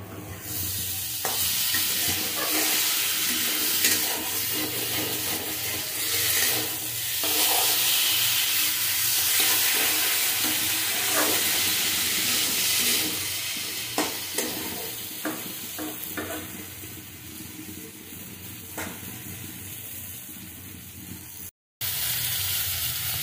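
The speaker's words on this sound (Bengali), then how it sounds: "একটু কষিয়ে নেব ভালো করে, কষানোর উপরে রান্নার টেস্ট হবে।" Drumstick stalks, bitter gourd, potato and bean seeds sauté steadily in a pan, a continuous close sizzle broken by scraping stirs, easing slightly toward the end.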